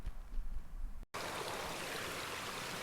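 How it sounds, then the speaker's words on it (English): A small feeder stream flows into Ennerdale Water in the Lake District, a close, steady rush and babble of water that drops out briefly and then returns louder and fuller. "This is just a little feeder stream to the lake,"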